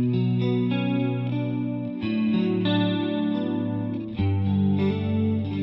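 A Johnson J-Station guitar modeler with its chorus effect on carries sustained, shimmering chords with a wavering, doubled tone, played loud and alone with a brief dip between chord changes.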